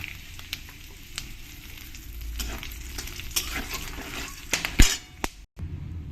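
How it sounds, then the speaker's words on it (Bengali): Whole spices, bay leaf and dried chili crackling in hot oil for a chicken curry, a close sizzle with light metal and glass clinks and a sharper burst of spitting near the end. "এবার আমি এই তেলের মধ্যে দিয়ে দেবো গোটা মশলা তেজপাতা শুকনো লঙ্কা"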